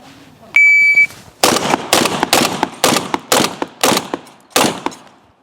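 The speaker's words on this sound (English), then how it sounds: "As soon as you hear the beep, we go on the B of beep" A shot timer gives a single sharp electronic beep to start a practical shotgun stage, followed right away by a rapid series of about nine loud, close shotgun blasts at a fairly even pace.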